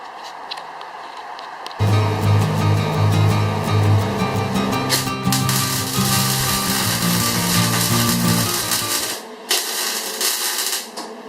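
Loud, close welding crackles and buzzes steadily for several seconds while corners of a metal frame are tacked, stops briefly, then resumes with a sizzling arc, without any talk.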